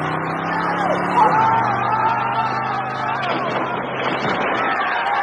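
Cars in The Blues Brothers push through a traffic blockage, engines revving and rumbling nearby with shifting pitch beneath a murmur of voices and crowd babble.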